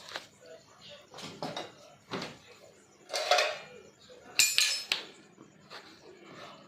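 Hands pat and slap jowar (sorghum) roti dough flat in a North Karnataka home kitchen, with several sharp irregular thwacks spaced a second or so apart and a voice speaking between them.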